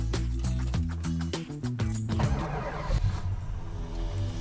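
A 1969 Dodge Charger with a 440 Magnum V8 cranks with a rapid rhythmic starter churn, then fires and settles into a loud, rumbling idle close by.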